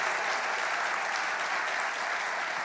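A church congregation applauds, a dense and steady wash of clapping from many hands filling the room at even loudness, with no voices standing out.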